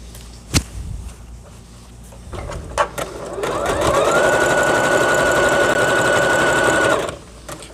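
A domestic sewing machine runs a zigzag stitch over sewn-in elastic, starting with a few clicks and handling noises, then a loud, steady whirring hum close by for about three seconds before stopping.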